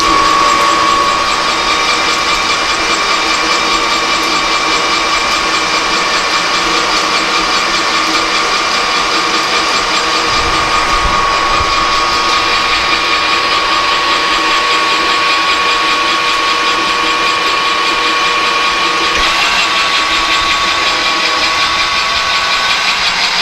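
A metal lathe turns a part down to half an inch for a Morse taper tailstock adapter, with a loud steady machine drone and a fixed whine, cutting noise shifting partway through, and no talk.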